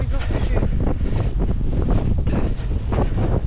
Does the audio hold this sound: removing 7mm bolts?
no